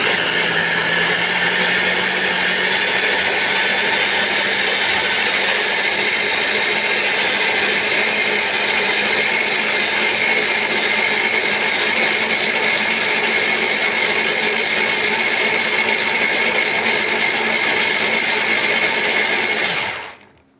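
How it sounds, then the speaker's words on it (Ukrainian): A blender purees tomatoes continuously at high speed for about twenty seconds, a steady loud motor drone that cuts off abruptly at the end. "Помідори ми перебиваємо на блендері."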